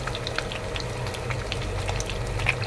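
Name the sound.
battered fish frying in oil under splatter guard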